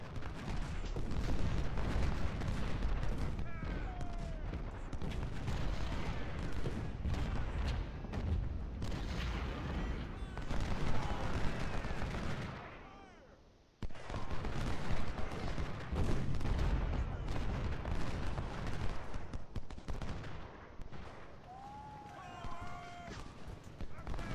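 Musket volleys and artillery booms from the Civil War strategy game Ultimate General: Civil War, at the Battle of Cedar Mountain, form a dense, continuous din of gunfire with scattered bursts over about 24 seconds, with someone talking over the battle.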